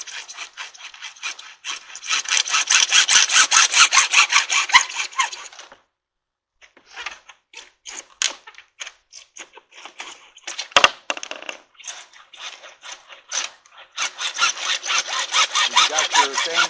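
Rhythmic back-and-forth saw strokes rasp through an old metal well pipe, close and loud, in bursts separated by pauses and scattered scrapes and knocks.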